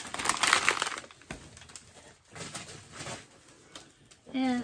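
Packing paper is pulled out of a weighty box from a beauty mystery bag, giving bursts of crinkly rustling and crumpling that rise and fall, with a brief voice at the end.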